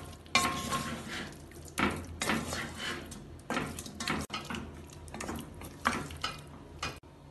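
Chicken mixed with mashed yogurt for biriyani is stirred and sautéed in a pan, with bursts of spoon scraping and clatter against the metal over a soft sizzle, close and repeated.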